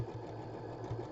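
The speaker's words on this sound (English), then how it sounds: "my sewing machine" A sewing machine runs at a steady speed, giving a continuous rhythmic mechanical whir with regular pulsing stitches, close and even throughout, with no voices.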